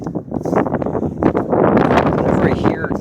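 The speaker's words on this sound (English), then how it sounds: "Big wave of wind just blowing like crazy." Strong storm wind roars and gusts through trees, a loud continuous rushing that swells and rustles, with a person talking over it.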